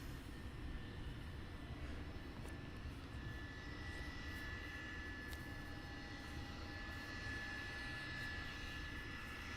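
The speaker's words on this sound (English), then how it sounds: "So this is going to be taxiing right past us, then turning around." A Blackburn Buccaneer jet aircraft taxiing at Cotswold Airport, a steady broad engine roar with a faint whine, constant and fairly distant, with no talk over it.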